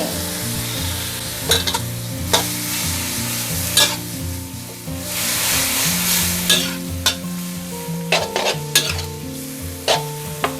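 Glass noodles with tofu skin stir-frying in a pan with a little water added, a continuous sizzle broken by frequent sharp utensil clacks and scrapes against the pan, close and lively, no talking.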